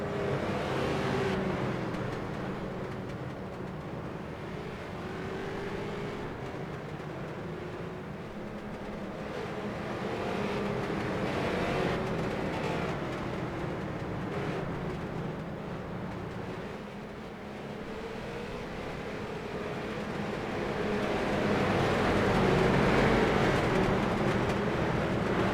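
Pro-Am street stock race cars lapping a track, their engines a steady droning roar that swells and fades as the pack passes, with no talk over it.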